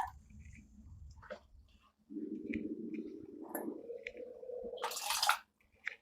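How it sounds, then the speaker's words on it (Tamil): Water poured from a tumbler into a pot of tamarind kuzhambu (vatha kulambu), a soft steady splashing pour lasting a few seconds, near and fairly quiet, following faint kitchen clatter. "இது ஒரு டம்ளர் அளவுக்கான தண்ணி இருக்கும் சேர்த்துட்டு இன்னும் ஒரு அரை டம்ளர் அளவுக்கு மட்டும் தண்ணி சேர்த்துக்கிறேன்"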